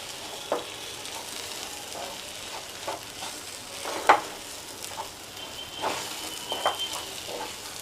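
A spiced green pea kachori filling with amchur powder is stirred in a pan, a soft steady sizzle broken by scattered scrapes and taps of the spoon against the pan, with no talking.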